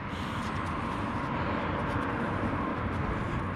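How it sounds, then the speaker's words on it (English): Steady, dense traffic rumble from a busy bridge overhead, a continuous low roar with passing-vehicle swells throughout and no clear breaks. "the bridge here above me gets a lot of traffic"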